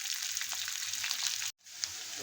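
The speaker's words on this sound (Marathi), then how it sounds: "त्यात लसूण पण टाकून घ्यायचा। हे सगळं लाल होईपर्यंत परतून घ्यायचं।" Onion and garlic frying in a pan for a tondli vegetable dish, a continuous soft close sizzle that cuts out briefly, then resumes with a small clink, no talking.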